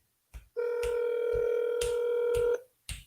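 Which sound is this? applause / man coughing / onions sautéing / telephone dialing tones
telephone dialing tones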